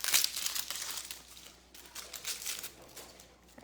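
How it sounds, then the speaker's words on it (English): Papery outer skin of an onion crinkles and tears as it is peeled away by hand, soft close crackling in several short bursts, quiet and without speech. "I sliced my knife in there to that first layer so I can peel it better like that"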